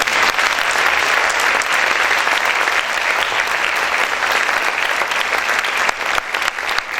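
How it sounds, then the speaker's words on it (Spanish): A church congregation claps loudly and continuously, dense sustained applause filling the room from start to finish. "Vamos a aplaudir fuerte."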